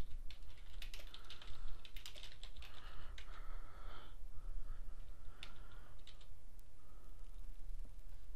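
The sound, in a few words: typing on a computer keyboard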